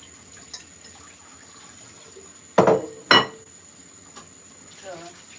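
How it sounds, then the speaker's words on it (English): Dishes being washed under running tap water in a home kitchen, with a faint background hiss and two short, louder splashing clatters in the middle, plus scattered soft clinks. "So I'm just trying to do the washing up a bit in the kitchen."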